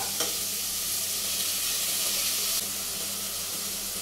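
Chicken liver fries in a pan as vinegar goes in, producing a steady loud hiss and crackle close up that runs unbroken throughout, with no talking.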